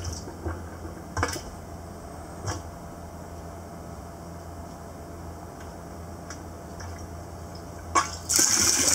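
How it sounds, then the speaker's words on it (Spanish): Low steady gurgling of water pumped up a pipe in a rainwater collection system, with occasional faint clicks and a louder splash of flow near the end. "Se oye ya el ruido de cómo sube el agua."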